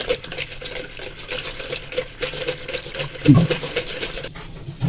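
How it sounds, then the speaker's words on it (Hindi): Yogurt is beaten by hand in a bowl to make lassi, producing rhythmic wet slapping and sloshing strokes, close and moderately loud, with a brief louder splash near the end and no talking. "अच्छी तरह इसको बीट करेंगे हाथ की मदद से।"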